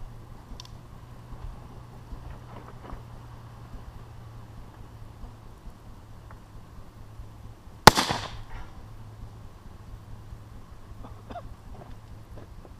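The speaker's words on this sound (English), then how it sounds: "we took three shots, loading the pistol as is, like normal" A single loud, sharp report from a smoothbore muzzleloading pistol firing a conical bullet cracks out nearby, then rings away, against a quiet outdoor background with a low steady hum.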